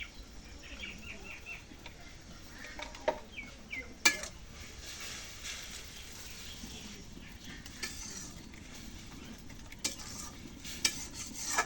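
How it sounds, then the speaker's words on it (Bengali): Spices for a rohu fish curry being stir-fried in a pan, with faint sizzling, soft stirring scrapes and occasional metal clinks, all quiet and close. "মশলাটা একটু কষাই মশলা কষানো"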